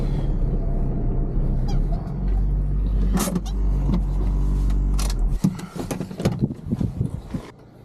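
An old farm vehicle's engine being started on choke: a loud, rough, steady cranking and running drone, then uneven revving and rattling bursts as it catches, close by.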